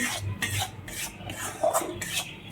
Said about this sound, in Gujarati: પછી આ લોટ અંદર ઉમેરી દઈશું અને ધીમા તાપે સતત હલાવી અને શેકવાનું છે